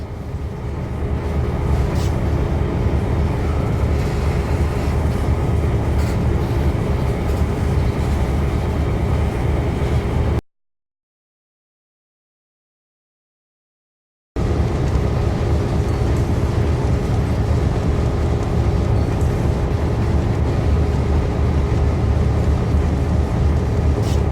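A steady, rumbling video game train engine drones continuously with broad low-end noise, broken by a few seconds of total silence midway before resuming.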